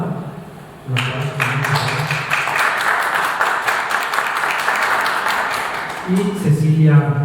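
Audience applause breaks out about a second in and fills a room steadily for several seconds, a dense patter of many hands at a panel event, with a voice speaking over the start and end.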